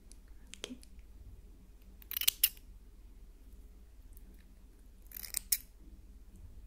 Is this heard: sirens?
no